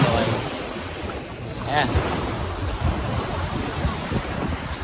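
Sea waves wash against the seawall at Sariaya, Quezon, a steady surf roar mixed with strong wind buffeting the microphone, and someone speaks briefly over it.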